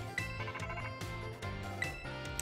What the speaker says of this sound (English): Jeremy, your phone's ringing.